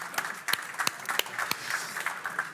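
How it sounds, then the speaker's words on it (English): An audience at a sports innovation event claps in a brief round of applause, with sharp individual claps standing out over a thinner clatter close by. "Maybe a short applause."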